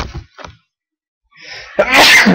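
A single loud, close sneeze bursts out near the end, preceded by a faint sharp inhale and brief breathy sounds, with no talking.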